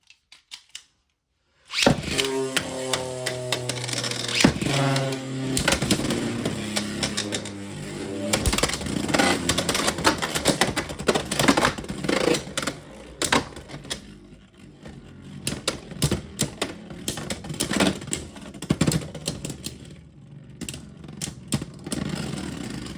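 Beyblade spinning tops, including Unicorn Sting, launch with a whirring start and then clash in a plastic stadium, giving dense rattling, scraping contact and sharp clicks that continue steadily to the end, with no talking.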